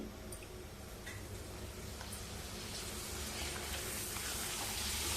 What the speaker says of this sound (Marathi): तळण्यासाठी पापड घालूया कढईमध्ये